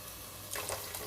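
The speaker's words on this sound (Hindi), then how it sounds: "और इसमें अब हमने पानी डाल देना है, तकरीबन 1 गिलास हमने पानी डालना है।" Water, about a glass, is poured into maash dal (whole black lentils) as it cooks for a dhaba-style dish; a soft, steady splashing pour starts halfway through after a quiet moment.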